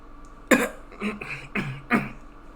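An audiobook narrator voices an innkeeper's coughing fit, a run of four or five rough, breathy coughs that come close and fairly loud over about two seconds.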